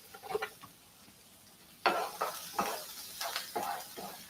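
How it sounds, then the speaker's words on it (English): Onions sautéing on high heat, with a soft sizzle under several scraping stirs of a utensil in the pan, close and fairly quiet, with no talking. "I like my onions on really high heat. I like them to be very sauteed."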